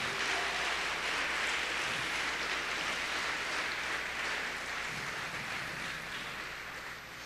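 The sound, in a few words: applause in church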